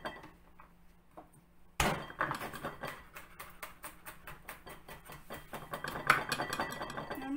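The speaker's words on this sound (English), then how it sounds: "So I will use this one garlic, crush it, mince it." A single garlic clove is crushed with a sharp thud, then minced with a fast, steady run of knife chops on a cutting board, loud and close.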